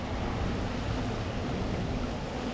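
A waterfall on the Ourthe river pours with a constant, dense rushing wash of water, steady and fairly close, with no voices.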